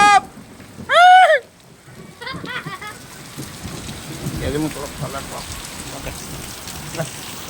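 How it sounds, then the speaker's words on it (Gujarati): Steady rain patters throughout during a thunderstorm with lightning, with bird-like chirps early on and a low thunder rumble building midway; no voices. "એકદમ ગાજવીજ સાથે વરસાદ ચાલુ છે."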